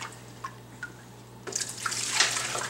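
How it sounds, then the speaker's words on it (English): Aquarium tank water poured into a bucket, a few small splashes and drips at first, then a louder gushing pour that swells toward the end, close by over a faint steady hum. "I'm going to take some tank water"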